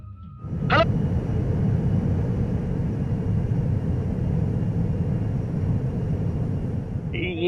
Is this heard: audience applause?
no